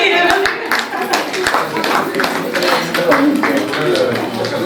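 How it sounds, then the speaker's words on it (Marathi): Audience applause at a Sankranti community music celebration, a dense stretch of many hands clapping steadily and fairly loud throughout, with a few sharper individual claps and faint voices mixed in. "टाळ्यांचा आवाज आहे का मला?"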